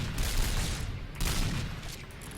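Gunfire from a Cheytec M200 sniper rifle in a video game, a loud close blast with a rolling tail, and a second shot about a second later, with no voices.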